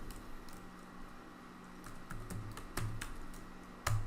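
A MySQL query is typed on a computer keyboard: scattered, crisp keystrokes in an uneven rhythm, close and moderately loud, with no voice.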